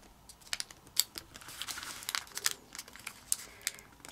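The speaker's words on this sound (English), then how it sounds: "turn over and fold this corner to here" Sheets of origami paper are folded and creased while shaping a jumping jack-o'-lantern, giving close, crisp crinkles and sharp taps in an irregular run, with no talk.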